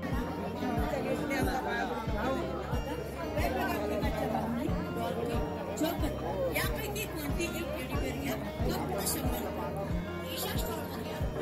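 Dense crowd chatter fills a village temple fair (yatra) at the Shri Dev Anjaneshwar shrine in Kasba Mithgavane, with many overlapping voices close by and a steady, regular low thumping beat running underneath.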